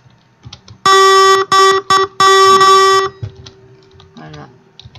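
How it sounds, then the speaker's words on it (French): A bus horn in the Roblox game sounds as a loud, harmonic electronic tone in several bursts of varying length, with keyboard clicks and a voice faintly underneath. "Par contre, il y a aussi le gong"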